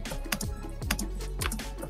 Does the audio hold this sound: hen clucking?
no